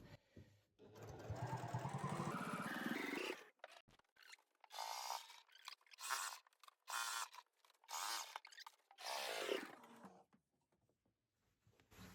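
A sewing machine stitches a fabric pouch from the inside, first in one long whirring run that rises in pitch, then in short repeated bursts separated by quiet pauses.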